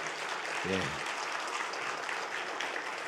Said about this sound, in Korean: 우리 한번 박수로 격려하겠습니다